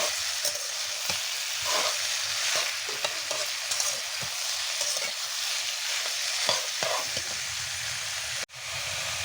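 Potatoes and kolur dal bori curry being stirred in a pan: repeated spatula scrapes and knocks over a constant loud sizzle, close up, with one sharp clatter near the end.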